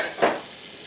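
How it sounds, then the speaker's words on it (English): A tablespoon or so of butter hits a preheated pot, giving a short burst of sizzle that quickly fades. "Okay, I have my pot preheating. I have about a tablespoon or so of butter."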